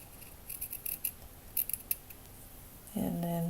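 Scissors make a quick series of crisp snips while cutting a piece out during a bedroom build, the close, bright cuts clustered over about a second and a half before a steady tonal hum takes over.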